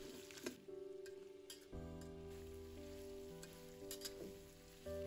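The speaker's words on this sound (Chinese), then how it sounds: "把姜蒜末倒进去，翻炒出香味。" Minced ginger and garlic stir-fried in a wok for a chicken wing and potato dish, a steady close sizzle with scraping spatula strokes and a steady underlying hum, with no voices.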